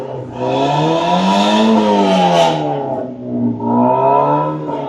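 A two-door, two-seat hard-top convertible sports car engine starts and revs, rising to a strong whining peak then dipping and climbing again, loud and close with no talk.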